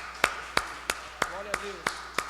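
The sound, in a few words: church congregation applause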